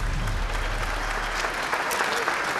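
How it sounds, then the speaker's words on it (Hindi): Loud, dense applause from an audience at a televised wrestling-bout event, continuous clapping filling the space from start to end without pause. "देविका भाभी के लिए जोरदार तालियां।"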